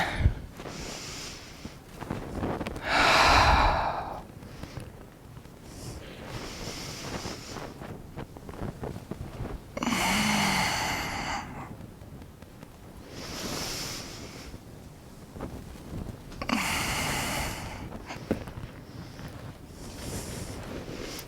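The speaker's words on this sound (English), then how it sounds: "Exhale. Inhale. Exhale. Keep going." Slow, deep breaths in and out during a yoga low lunge, with several airy, close rushes of breathing spaced a few seconds apart over quiet room tone.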